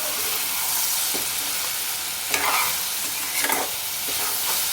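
A spoon stirs and scrapes bottle gourd curry in a hot pan, giving close, loud clattering strokes over a continuous frying sizzle.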